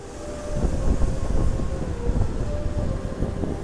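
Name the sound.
Sembrani train arriving at station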